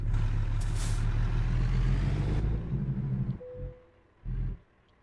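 A heavy truck engine in American Truck Simulator rumbles loudly, then a sharp hiss of the parking air brake releases and the engine cuts down, followed by short low rumbling bursts.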